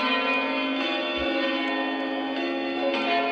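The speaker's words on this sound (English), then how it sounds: "This tenor sounds quite the same to the tenor there, but it's it sounds teeny different. It's a faster bell." The tenor bell of All Saints church in Maidstone rings on Boxing Day, a sustained, resonant, humming bell tone held steadily throughout, fairly loud and alone.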